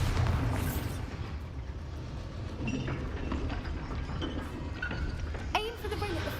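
Bombarda, the explosive spell in Hogwarts Legacy, detonates with a heavy opening boom that rolls into several seconds of rumbling debris and scattered impacts, with sharper cracks and clatter near the end.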